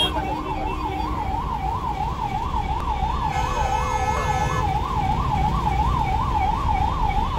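A continuous rising-and-falling ambulance siren cycles without pause amid congested traffic, heard from aboard an MSRTC seater-cum-sleeper bus, over a steady bed of engine and road noise.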